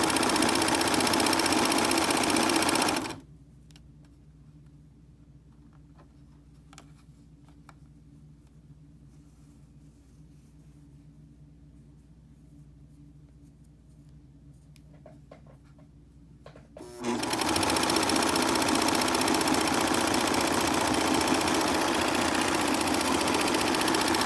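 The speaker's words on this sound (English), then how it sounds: "you'll just sew all the way to the end." Sewing machine stitching the band of a three-layer cloth pocket mask. A steady, close whirring hum runs for several seconds, stops for a long, near-silent stretch, then resumes just as loud and continues.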